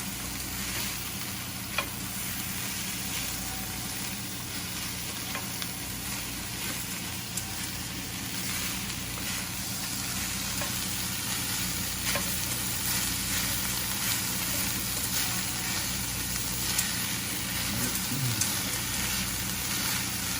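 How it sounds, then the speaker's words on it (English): Chopped green onions sizzling in a pan of hot oil, a steady close crackle with occasional stirring clinks and no talking. "We want to soften this one up because the green onion does cook a little faster."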